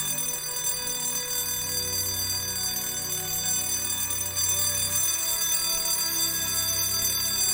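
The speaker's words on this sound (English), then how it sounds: "Make the bell ringing stop!" An alarm bell rings without pause in the game Silent Storm, a steady metallic tone held for the whole stretch at constant loudness, with no talking over it.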